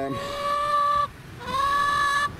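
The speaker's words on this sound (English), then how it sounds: "Here's the chickens, look." Allotment chickens in a flock of eight calling, two drawn-out, loud squawking cackles close by, with a short pause between them and a rough outdoor background.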